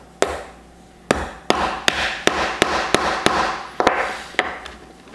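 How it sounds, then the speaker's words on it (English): A hammer's flat face taps the pin of a Bewell wooden watch band in about a dozen sharp, close knocks at an irregular, fairly quick pace, with no talking. "we're going to use this side of the hammer"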